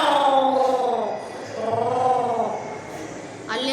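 A human voice imitates an angry cat's cry: two long, wavering, moaning yowls, close and fairly loud, then a brief harsher sound at the very end.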